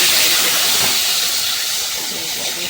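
Mashed boiled olives hit hot oil seasoned with panch phoron, dried chillies and turmeric, setting off a loud, close, continuous sizzling hiss that fades slightly toward the end.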